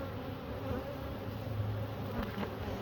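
Honeybees hum in a steady, close swarm drone from an open hive during a beekeeper's check of colony food stores, continuous and fairly quiet with no voices.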